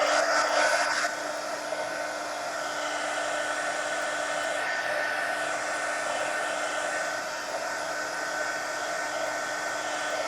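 A hair dryer drying a wet mixed media napkin art journal page, a steady close whirring blow that holds constant for the whole stretch, with a slight change at the start and no speech.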